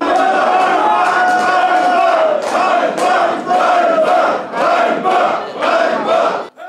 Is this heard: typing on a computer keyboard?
no